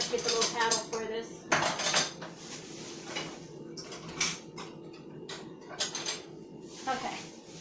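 Metal utensils and dishes clatter and jangle repeatedly while someone rummages for a stand mixer's paddle attachment, loud close clinks and rattles in irregular bursts.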